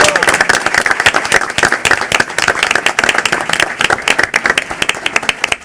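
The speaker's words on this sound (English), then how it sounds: "Let's give these students a round of applause." Students at a Chicago Board of Education meeting receive loud, close applause: a crowd's sharp, individual claps rattle continuously for nearly six seconds, with some voices mixed in.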